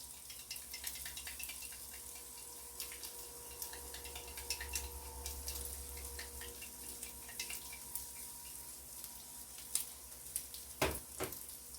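Breakfast sausage fries in a skillet with a steady, soft sizzle and crackle, lone and fairly faint, with a few sharper pops and ticks near the end.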